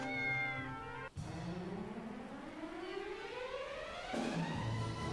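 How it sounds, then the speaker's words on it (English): Cats in the PS2 role-playing game Dragon Quest VIII let out a few loud, drawn-out meows. The cries rise and fall in pitch, with a short gap between them and another meow near the end. "There's more kitty cats."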